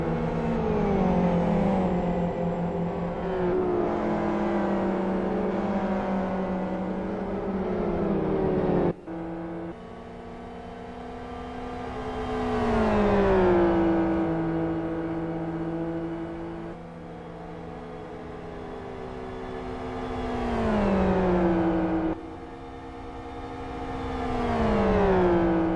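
Race car engines in the Gran Turismo racing game rise and fall in pitch through repeated gear shifts, loud, continuous, and unaccompanied by talk.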